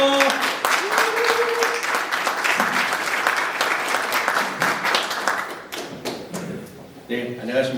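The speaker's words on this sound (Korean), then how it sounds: "우리 조성돈 교수님을 열렬한 박수로 환영하겠습니다" An audience warmly applauds to welcome Professor Cho Seong-don to a rural church pastoral school lecture. Dense, close clapping runs throughout and thins into scattered claps, with a voice speaking briefly at the start and again at the end.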